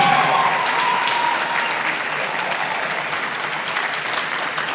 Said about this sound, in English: please stand up and just clap for the Vice President one more time